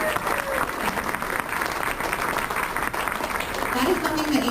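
Continuous dense clapping from a crowd, steady and fairly loud throughout with no pauses.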